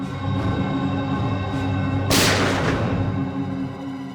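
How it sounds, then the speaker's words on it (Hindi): A single sharp gunshot-like blast cracks out midway through a steady humming drone at a terrace party, loud and close, then fades back into the background tone. "गोली चलने की आवाज है"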